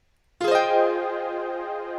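After a brief silence, a strummed piano chord from music software enters loud and close, its notes rolling in quickly one after another, then sustains and slowly fades with no other sounds.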